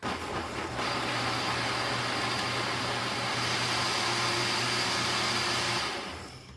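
A blender or food processor chops corn kernels for a custard pudding base, a loud steady whirring roar that starts abruptly and runs for several seconds before winding down, alone with no talking.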